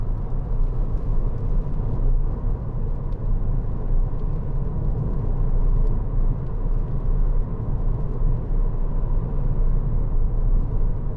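Steady low rumble and road roar fill the cabin of a 2013 Citroen DS3 1.6 VTi cruising at motorway speed, a constant, even drone with no one speaking.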